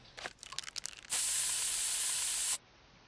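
Pepper spray in the video game South Park: The Stick of Truth lets out one sustained, bright hiss lasting about a second and a half, after a few brief scuffing sounds, with no talking.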